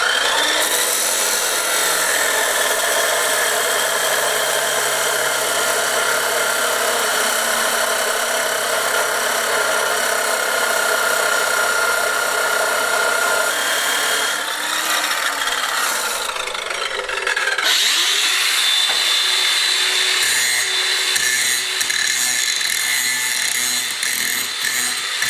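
Power tool cutting a chunky piece of steel angle for a frame, a loud continuous abrasive whine and rasp that holds steady and then changes pitch near the end.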